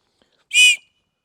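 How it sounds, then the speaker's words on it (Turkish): A single short, piercing whistle blast from a knife's built-in high-decibel emergency whistle, loud and close, with silence before and after. "Yüksek desibelli bir düdük oluyor."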